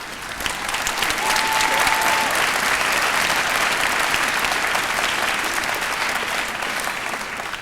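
A crowd applauds at a high school graduation ceremony with loud, sustained clapping that swells and holds steadily throughout, with a faint tone briefly audible underneath.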